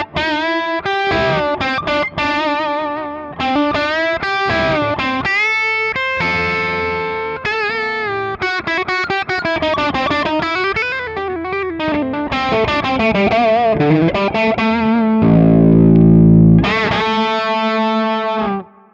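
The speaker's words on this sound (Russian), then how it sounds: "здесь какой-то мидгейн, он довольно тепло звучащий" Electric guitar played through a warm mid-gain preset on a Hotone Ampero II Stomp multi-effects unit, with distorted chords and sustained lead notes ringing continuously and loud, no talking.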